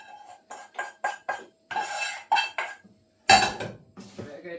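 A spoon scraping and knocking around a bowl as melted butter and sugar are stirred into crushed chocolate biscuit mix for a lemon mascarpone cheesecake, in short irregular bursts with brief pauses between strokes.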